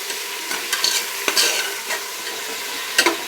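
Radish and eggplant pieces frying in a little oil in a pan, with scraping stirs and soft sizzling crackle, short bursts of clatter every second or so, close and clear with no talking.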